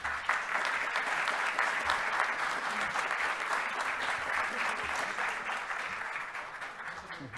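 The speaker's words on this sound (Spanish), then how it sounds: "volvamos a dar un fuerte aplauso a nuestro expositor, el ingeniero José Pablo Vidal Araya" An audience gives sustained applause to an engineer after his talk on productivity measurement indicators, an even, dense clapping that carries on throughout, softly distant.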